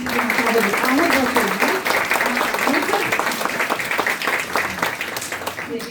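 Audience at a women's literary conversation circle applauds a guest as she is welcomed, with sustained crowded clapping that slowly tapers while voices rise and talk over it.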